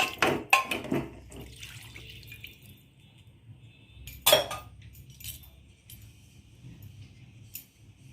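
Tap water runs and splashes while something is washed at a sink, with sharp clinks and knocks near the start and around four seconds, then a softer steady trickle with occasional drips. Recorded close up during rasagola preparation.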